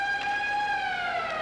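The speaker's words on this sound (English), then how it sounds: "Well, there's the siren" The period-ending siren sounds in an ice hockey arena during a 1984 Canada Cup game between the USSR and West Germany, a loud, steady, wailing horn tone that drifts slightly downward.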